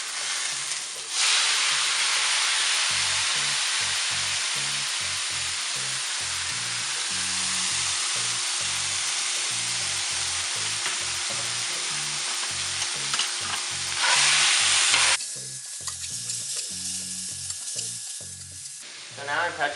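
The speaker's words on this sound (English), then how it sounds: "So we're almost gonna fry these on that hot pan right there." Korean sweet potato noodles fry on a hot pan with a loud, steady sizzle and hiss, while stirring adds rhythmic scraping underneath; the sizzle swells briefly before dropping near the end.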